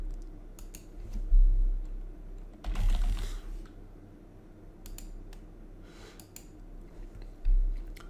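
Bursts of close keyboard typing entering a search term, a quick run of clicking keys, then scattered single taps and pauses over a quiet room.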